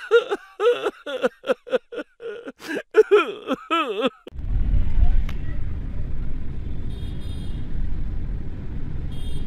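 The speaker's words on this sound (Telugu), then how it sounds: "ఇక్కడ బయట ఫుల్ ట్రాఫిక్ ఉంది" Heavy road traffic rumbles outside Golconda Fort, a low continuous engine drone that follows a stretch of nearby talking and carries on steadily to the end.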